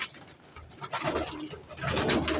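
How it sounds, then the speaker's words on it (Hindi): Pigeons coo softly nearby, low throaty calls that swell toward the end, quiet and unaccompanied by speech. "ये देखो कबूतर।"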